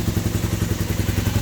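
A Honda CB250N motorcycle engine ticks over at a steady idle right after its carburettors were ultrasonically cleaned, a close, even low-pitched pulsing throb with a light mechanical clatter and no voices.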